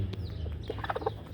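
A broody hen sitting on eggs clucks in a few soft, low, throaty bursts near the end, faint over a steady background rumble.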